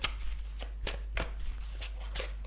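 A deck of tarot cards is shuffled by hand in soft, irregular riffles and slaps, fairly quiet and close, over a steady low hum, with no talking.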